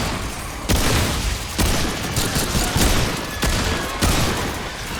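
Rapid gunfire crackles in repeated loud bursts with sharp booming shots, a dense chaotic firefight continuing throughout with no voices, from the video game Remnant II.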